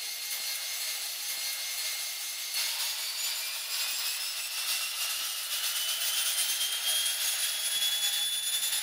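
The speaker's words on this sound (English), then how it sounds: "you should hear working the spark plug." A PT6 turboprop engine starting up, a loud continuous high-pitched whine and rushing roar with rising tones as it spools, heard close and alone with no voices.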